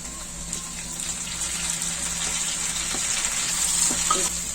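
Chopped tomatoes frying in a pan for dhaba-style matar paneer, a dense steady hiss of sizzling with occasional soft stirring knocks, heard close and alone.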